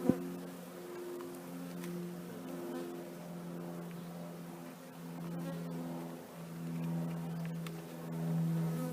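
Honey bees buzzing steadily around an open hive during a frame-by-frame inspection, a close, continuous drone with the pitch wavering slightly over several seconds and no talk over it.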